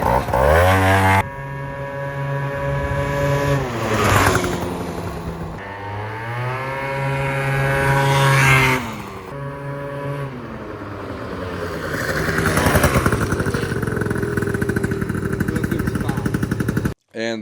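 A Gilera Runner 180cc scooter engine with a clogged exhaust running rough, loud and close, revving up and down with sputtering, uneven bursts throughout.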